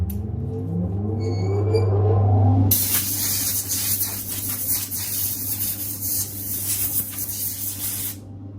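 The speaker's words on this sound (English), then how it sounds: "Fan on." Dust extraction fan at a sanding machine, used while converting Birkenstock sandals, spinning up with a low hum before a loud, steady rushing hiss of airflow takes over and runs continuously, close by with no talk.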